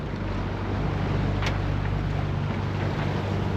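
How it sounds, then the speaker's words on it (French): A sailboat's engine runs at sea, a steady low droning rumble mixed with wind buffeting the microphone and rushing water, with one brief sharp click partway through. "Je suis au moteur et ça fait 3 heures et j'en ai marre."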